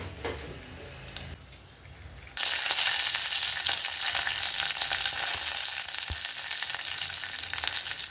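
Dried red chilies and curry leaves hit hot oil for a tempering, bursting into a loud, steady crackling sizzle after a quieter start, with occasional stirring scrapes.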